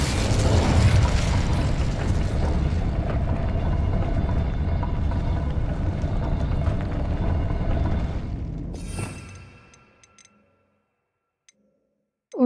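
An Incendio fire spell erupts in Hogwarts Legacy, a loud, sustained roaring blast of flame and crackle that holds steady for several seconds before fading away into near silence, with a sharp click at the very end.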